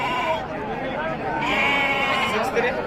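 Sheep and goats bleat repeatedly at a busy livestock market in Gokak, overlapping cries amid crowd chatter and people talking nearby.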